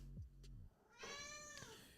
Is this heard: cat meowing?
yes